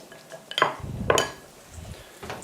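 Spaghetti carbonara being tossed with grated cheese in a pan, with a few sharp metallic clinks and scrapes of utensils against cookware and soft stirring noises between them.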